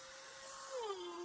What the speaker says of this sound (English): So let's get on with it, let's have some Dremel fun.